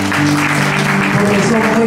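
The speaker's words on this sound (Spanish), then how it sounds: "hay que darle un gran aplauso" An audience at a Spanish-language final applauds steadily for about two seconds, the clapping blended with a sustained tonal layer of voices or music throughout.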